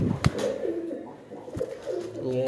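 A pigeon coos close by in a home setting, with soft rolling calls repeated several times, a sharp knock partway through and faint background noise.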